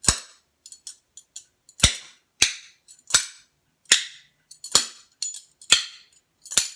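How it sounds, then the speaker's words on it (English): Sharp, clacking hits of two spoons struck against a palm land in quick irregular bursts, bright and close, with short silences between the clicks. "I'm putting the spoons in my left hand, and then you hit them on your palm"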